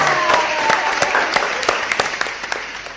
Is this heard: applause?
yes